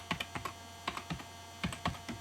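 Computer keyboard typing while entering a PrestaShop database name: quick bursts of close, crisp keystrokes with short pauses between groups, no voices.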